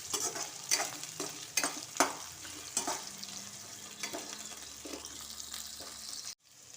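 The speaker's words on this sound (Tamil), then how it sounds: "வெங்காயம், இஞ்சி, பூண்டு எல்லாத்தையும் நான் போட்டிருக்கேன்" Onion, ginger and garlic sautéing in a pan for peanut chutney, a steady soft sizzle broken by repeated sharp scraping stirs near the start, then a quieter hiss before it cuts off.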